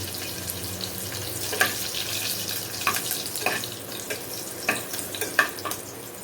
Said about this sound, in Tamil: இப்போ கருவேப்பிலை வந்து பார்த்தீங்க அப்படின்னா நல்லா வந்து பொரிஞ்சு வந்துருச்சு இல்லையா?